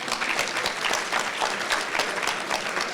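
Audience applause at a charity check presentation event, a steady, full round of clapping from a crowd lasting about three seconds, without talk.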